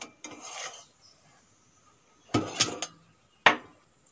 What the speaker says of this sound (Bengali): এখন আমি টিফিন বক্সটা তুলে নেব।